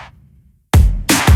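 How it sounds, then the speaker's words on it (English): A huge snare drum from an R&B track with EDM-style drums, heard alone in three loud, bright hits with roomy tails, the last two close together. "With the snare, it sounds like this."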